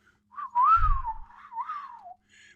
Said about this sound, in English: listening at the same time to her master's merry whistle